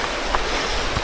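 Water rushing steadily at the Blauthaler Waterfall, a loud, broad, continuous roar close by with no breaks.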